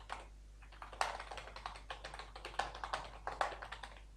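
Password typed on a computer keyboard while setting up a local WordPress site: a run of quick, close plastic key clicks in an uneven rhythm, with a few louder strikes, alone over a faint steady hum.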